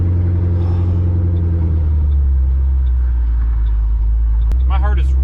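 A built 1000hp Ford Mustang GT500 accelerates hard on a highway pull, its deep engine roaring loud and steady from inside the cabin, with a brief sharp click near the end.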